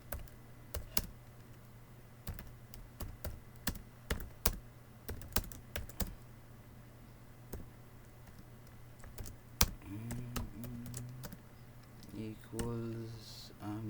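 C++ code is typed on a computer keyboard. Scattered clusters of close, crisp key clicks come in irregular bursts, and a voice talks over them near the end.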